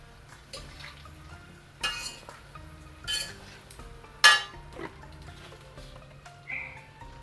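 Gooseberry pickle ingredients are stirred in a pot, giving a few separate clinks and scrapes of a utensil against metal, spaced a second or so apart in a quiet room.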